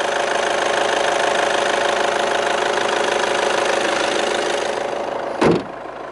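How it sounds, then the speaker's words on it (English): A Volkswagen Golf 1.6 TDI diesel idles steadily up close with the bonnet raised, a continuous even rumble with light clatter that carries on for about five seconds before a brief thump near the end. "Engine's still running."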